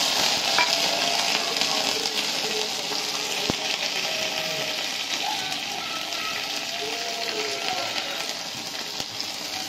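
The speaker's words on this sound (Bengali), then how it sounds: "এখন ভেজে নেব।" Peanuts frying in a pan as a loud, continuous crackling sizzle with the odd small click, steady and close throughout.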